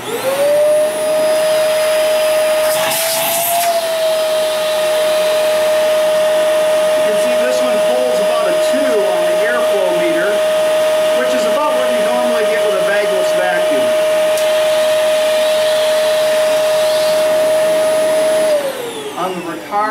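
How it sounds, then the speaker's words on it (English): A Shark Rotator upright vacuum cleaner motor whirs loudly and steadily for nearly the whole stretch, a high constant whine, with a voice talking underneath before it winds down. "on the Shark Rotator Never Loses Suction vacuum"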